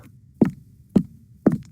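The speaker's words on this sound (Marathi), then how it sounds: "तो चालण्याचा आवाज होता" Three heavy footsteps thud from an upstairs room, slow and evenly spaced, muffled and low against a quiet background hum.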